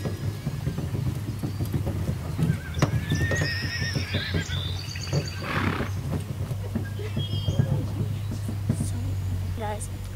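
A horse whinnies over a low, steady rumbling background, its shrill neigh rising and falling, with some softer animal sounds around it.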